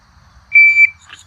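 A Pact Club shot timer sounds a single steady, piercing electronic beep at the end of its countdown. The beep is loud, close and alone, followed by a faint trailing chirp.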